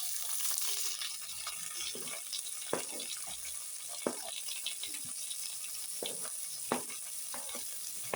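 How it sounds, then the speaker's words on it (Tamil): Chopped onions sauté in a pan with a steady soft sizzle, broken by occasional scrapes and taps of stirring, close and fairly quiet with no speech. "இப்போ வெட்டி வச்சு வெங்காயத்தை சேர்த்து போட்டு வதக்க போகிறோம்"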